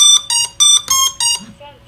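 An FPV quadcopter with a RaceFlight RevoltOSD flight controller plays its motor reboot tones: five bright, evenly spaced electronic beeps, then a softer falling tone.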